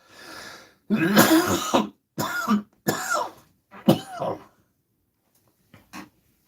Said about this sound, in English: Excuse me, I was not coughing like this earlier this morning.